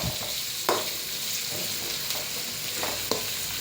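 Chopped onions sizzle and fry steadily in a pan with garlic, a constant crackling hiss broken by a few soft scrapes of stirring, close and moderately quiet with no talk.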